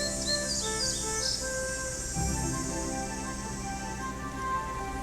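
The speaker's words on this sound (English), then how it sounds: "we could hear a bird back over here" Bird calls from the Nancy Drew game Ghost Dogs of Moon Lake, a few high chirps over a steady outdoor ambience of insect and cricket hum, with no talking.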